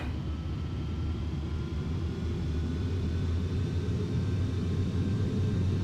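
Boeing 737-832 in Delta Air Lines livery starting its takeoff roll at Tampa in the FSX flight simulator: a steady, loud low engine rumble and roar that holds constant throughout, with no voices.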